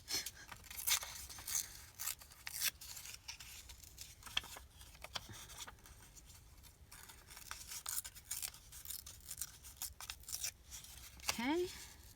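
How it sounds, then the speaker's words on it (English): Paper torn by hand from an old book, with short bursts of ripping and scratchy crackle spread across the stretch, a voice talking in the background. "You all know how I love to rip paper."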